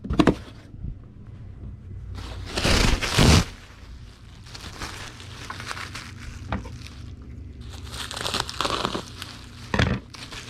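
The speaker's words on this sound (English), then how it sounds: "We'll need to get a sheet of bubble wrap, cut it in half" A sheet of bubble wrap crinkled and cut, with bursts of plastic crumpling and rustling between quieter handling noises and a few sharp snips or pops, close by.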